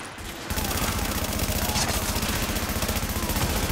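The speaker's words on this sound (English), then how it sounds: "Keep shooting the rails." Sustained rapid automatic gunfire in The Division Resistance shooter game, fired at rails as a dense, continuous rattle that starts abruptly and stays loud throughout.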